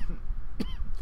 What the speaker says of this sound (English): How unprofessional. I'm coughing.